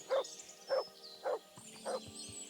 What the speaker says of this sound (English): Is it Mart or is it someone else's dog?